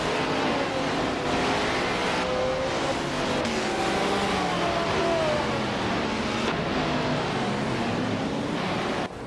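A 1973 Alfa Romeo Tipo 33 T12 race car in a video game gives a sustained engine drone, with pitch gliding as it shifts through gears, joined by the dense roar of other cars racing around it.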